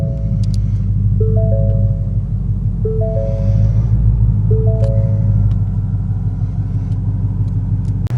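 A 2017 Ford Mustang GT with the 5.0 V8 and a manual gearbox rumbling down a road, a deep steady engine drone with a cabin chime repeating in the background.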